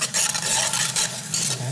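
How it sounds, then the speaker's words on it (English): Vegetables sautéing in a home-kitchen pan, a steady close sizzle with scraping stir strokes, set to cook alongside rice and salmon. "Okay, now your vegetable is all sauteing."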